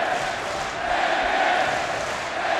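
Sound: wrestling crowd cheering

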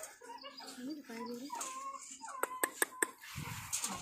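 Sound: Belgian Malinois puppies whimpering

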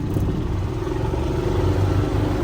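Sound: electric golf cart driving

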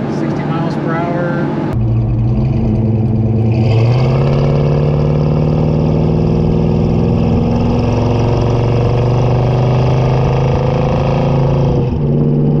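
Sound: 350 V8 engine of a 1972 Chevrolet El Camino revving on downshift

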